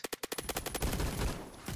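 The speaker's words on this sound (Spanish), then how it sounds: "Todos esos disparos todos esos tiros." Rapid assault rifle bursts in the Roblox shooter Phantom Forces, a quick string of sharp cracks running into dense continuous automatic fire, loud and close with no talking.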